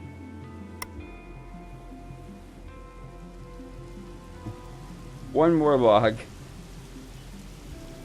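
Rain pattering steadily in the early-America colony game Colonize, a soft continuous wash of falling drops throughout, with someone briefly speaking over it near the end.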